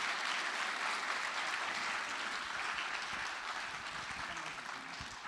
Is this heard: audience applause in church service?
yes